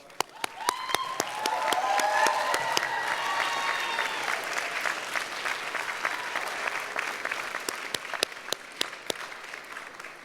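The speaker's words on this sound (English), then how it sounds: "I'd like you to stand and to thank them by applauding." Audience applause at a university commencement ceremony, a sustained wash of many hands clapping in a large hall lasting the whole stretch, with a few sharper individual claps standing out near the microphone.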